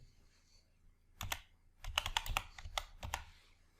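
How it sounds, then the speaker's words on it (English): Typing on a computer keyboard while entering values into an Excel function box: quiet, close keystrokes in a loose irregular run, a lone tap followed by a quicker cluster of clicks. "Type median"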